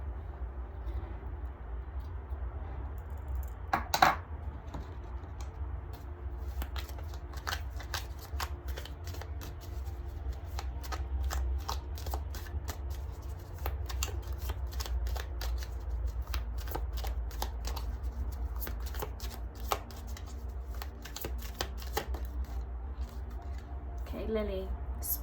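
Tarot cards riffled and shuffled by hand in repeated bursts of crisp flicking and slapping, close and steady over a low background hum, with a sharper card snap near the start.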